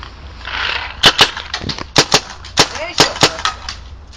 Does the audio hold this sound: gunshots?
yes